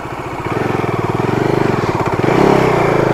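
A motorcycle engine runs steadily nearby with a pulsing throb, then rises slightly in pitch and loudness as it pushes forward.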